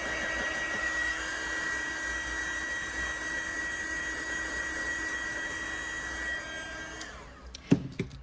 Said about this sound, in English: Let's give it another shot of heat.